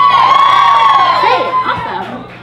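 An audience at a live poetry event cheers and whoops loudly, with a crowd roar and rising shouts sustained throughout.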